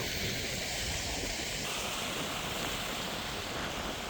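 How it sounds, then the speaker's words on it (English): Steady wind buffets the microphone, producing a constant rushing noise that sounds like distant surf, with no voices. "It's quite windy, probably that messes up the sound."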